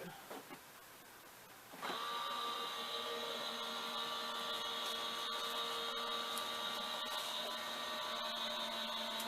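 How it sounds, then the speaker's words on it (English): A Gemini die-cutting machine switching on and running, a steady mechanical whine with a motor hum that holds at an even level, close and fairly quiet, with no talk over it. "You hear that little noise? That's the Gemini machine."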